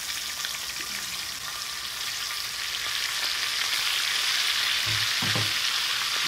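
Chorizo frying on a plow disc discada, a steady bright sizzle close up throughout, with a few soft scraping stir sounds near the end and no talk.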